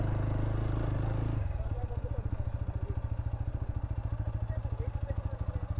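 A motorcycle engine idles, then chugs in a rapid, steady putter as the bike is pushed and ridden up onto a house beside a river, close and rough, with a person talking over it.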